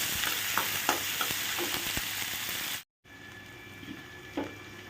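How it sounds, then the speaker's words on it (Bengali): Chopped onion and green chili frying in oil over a low flame, with crushed garlic, giving a steady soft sizzle with occasional stirring clicks, cut by a brief silence partway through and quieter afterward. "দেখতেই পাচ্ছ এখানে পেঁয়াজ আর লঙ্কাটা কিন্তু একদম লো ফ্লেমে দিয়েছি, ভাজা ভাজা হচ্ছে"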